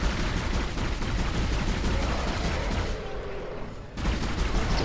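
Dense, continuous gunfire from a weapon in the video game Dead Space crackles loudly for nearly five seconds, briefly thinning just before the end, with a faint voice underneath.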